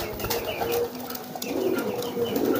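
Soft, low pigeon cooing repeats in a steady murmur, fairly close, with faint rustling and background noise around it.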